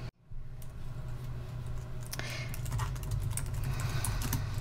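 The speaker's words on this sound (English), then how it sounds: "And then you type it in." Computer keyboard keys are typed in a brisk run of close clicks following a brief silence, with a low hum underneath.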